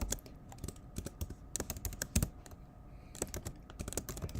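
Keystrokes on a computer keyboard clatter in irregular bursts at a steady close range, with brief pauses between runs of typing and no voices.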